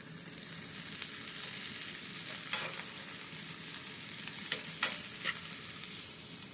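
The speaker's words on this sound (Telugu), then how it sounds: "ఇది కొంచెం కరివేపాకు వేసాను." Curry leaves fry with onion in a pan, a steady soft sizzle broken by occasional scraping clicks as a spoon stirs, close and moderately quiet with no voices.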